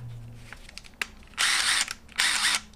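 An impact gun fires two loud, close bursts of a second or less each, separated by a short pause, with a faint tick and low hum in between.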